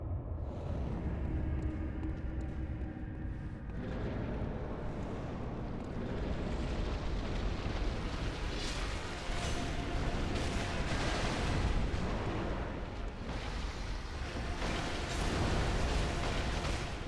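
Heavy cannon blasts in Bloodborne thunder through a dense, roaring wall of combat noise, booming repeatedly and loud throughout with no voices.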